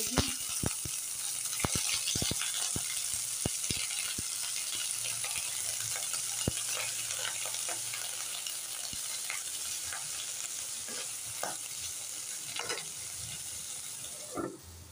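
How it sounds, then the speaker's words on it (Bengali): Ridge gourd and fried potatoes sizzle in a pan, a steady close frying hiss broken by repeated sharp scrapes and clinks of stirring, louder in the first seconds and continuing evenly throughout. "আলুগুলো ভাজা হয়ে গেছে, এবার ঝিঙেগুলো দিয়ে দিই"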